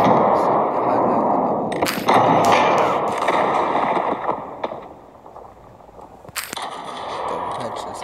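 An alien gun fires in the mobile shooter game Johnny Trigger, giving a few sharp bursts near 2 and 6.5 seconds over a steady layer of game music and effects.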